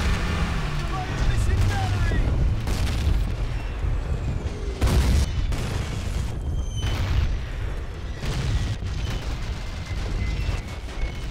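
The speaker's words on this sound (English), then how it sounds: "Finally get some artillery myself." Artillery shells exploding in Call of Duty United Offensive multiplayer, a string of heavy booms and sharp bursts spread through the stretch over a constant rumble of battle, with a voice talking at times.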